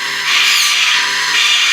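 Power drill drives a screw into wood for a handmade toy, giving one continuous, loud, high-pitched whir at close range with no talking.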